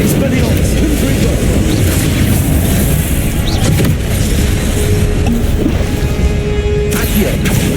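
Spell-casting effects in the Hogwarts Legacy video game, with fire, disarming and blasting spells, form a dense, loud, continuous roar of magical whooshes and crackling bursts. Occasional booming impacts break through the steady wash of noise.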